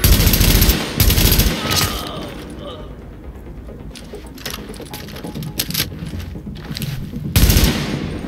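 Gunfire from the video game The Division, with loud bursts of shots at the start and end and repeated shots through the middle, heard alongside game sounds and talk.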